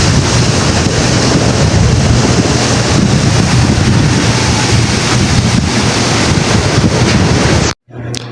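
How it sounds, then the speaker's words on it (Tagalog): Strong wind roars against the microphone as waves crash continuously at the shore, a loud, unbroken wash of surf and gusts that cuts out abruptly near the end. "Yung hangin, oh, tignan nyo. Mahangin talaga."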